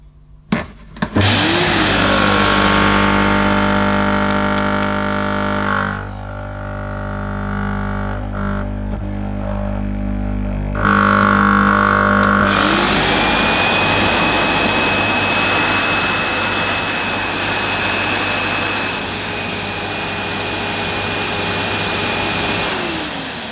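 Hoover Jet N Wash multipurpose vacuum cleaner and carpet washer with its suction motor running, a loud close whining drone that drops briefly before surging back stronger and rougher.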